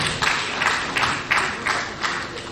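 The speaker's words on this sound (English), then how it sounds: "Can we please give them a round of applause once again?" A round of applause rises from the audience at a ministerial sectoral briefing, with the clapping swelling in regular, pulsing waves that hold steady for a couple of seconds.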